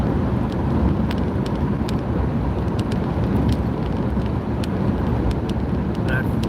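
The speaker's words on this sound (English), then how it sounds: "At least 7 more hours driving this vehicle." Steady interior road noise from a vehicle cruising on an Ohio interstate, a continuous broadband rumble and tire roar with no breaks, close and fairly loud throughout.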